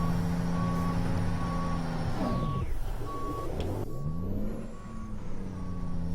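A truck in American Truck Simulator sounds evenly spaced reversing beeps over a steady engine drone, with air-brake hisses and shifting engine tones as it backs up.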